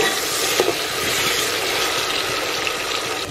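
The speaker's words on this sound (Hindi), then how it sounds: "प्याज हल्की सुनहरी हो चुकी है, इसमें अब 2 टमाटर कटे हुए डाल देंगे।" Chopped tomatoes hitting golden fried onions in a biryani pot, a loud dense sizzle and hiss that stays steady and close throughout, with faint stirring scrapes underneath.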